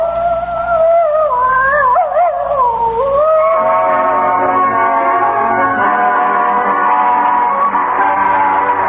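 A hound dog bays in long, wavering, mournful howls that rise and fall, then settle into a sustained tone, ringing clear and fairly close with no voices over it.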